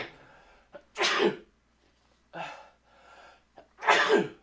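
A person sneezes three times in quick succession, sharp close bursts with short quiet gaps and a soft intake of breath between them.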